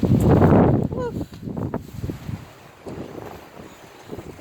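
Gusty wind buffets the microphone outdoors by a garden potting bench, heavy rumbling bursts at first that ease into lighter gusts, with a person talking intermittently over it.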